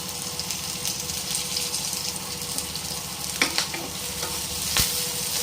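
Onion and curry leaves sauté in coconut oil in a pan, a steady close sizzle with a few stirring scrapes and clinks over it, no voices.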